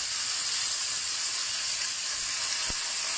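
Salmon fillet searing in a hot pan for garlic butter salmon, giving a steady soft sizzle and hiss throughout with one brief sharp tick near the end, no talking.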